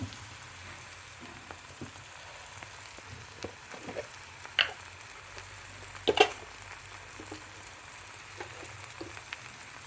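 Paneer tikka masala gravy fries in oil in a pan, giving a faint, soft sizzle broken by a few sharper pops and crackles.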